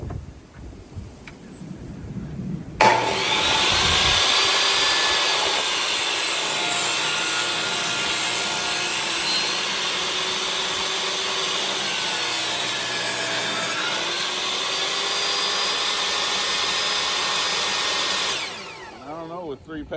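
A table saw used as a jointer runs with a loud, steady whine as a board passes through, cutting continuously at close range for about fifteen seconds before spinning down.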